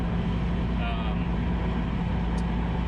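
Dense, steady road roar fills the cabin of a high-mileage BMW Z3 M Coupe driving over a noisy road surface, with no clear talk heard.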